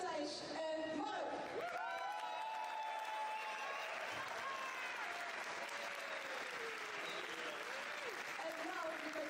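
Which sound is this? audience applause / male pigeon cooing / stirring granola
audience applause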